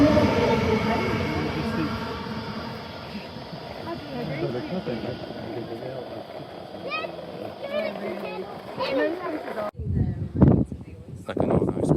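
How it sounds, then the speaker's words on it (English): A train passes by, a loud broad rumble that fills the clip and fades toward the end, with a voice and other talk over it. "Oh, and there's another train there."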